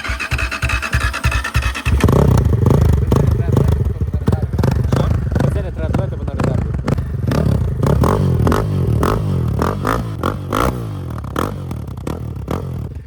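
A Kovi Max 300 buggy engine cranks with a few rapid pulses, then catches and runs loud and close, its revs rising and falling in a rough, clattering idle while people talk over it.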